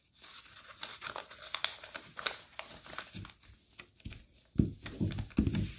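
Paper is folded and creased into an origami fighter jet, with close crinkling and rustling, sharp crisp creases, and a few louder, heavier handling rustles toward the end.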